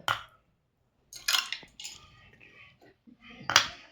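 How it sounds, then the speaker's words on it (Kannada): Ice cubes drop into a glass of homemade chikoo juice with milk, producing a few sharp, close clinks and clatters in separate bursts. "ಇವಾಗ ಐಸ್ ಕ್ಯೂಬ್ ಹಾಕೋಣ."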